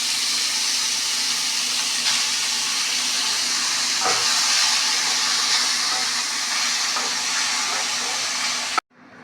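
Chopped palak spinach sautéing in a little oil in a kadai, a steady close sizzling hiss that runs unbroken for about nine seconds, with faint clinks of stirring, before cutting off abruptly near the end.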